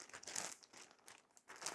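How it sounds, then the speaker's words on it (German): Plastic bag crinkling as potted jungle plants are unpacked, a quiet close-up series of irregular crackling rustles in several short bursts with brief pauses between them. "Als nächstes mache ich mal diese Tüte hier auf."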